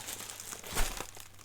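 Packaging from an RC crawler kit, the DEMON KR4, is being unwrapped, giving steady close crinkling and rustling with a louder crunch near the middle. No one speaks.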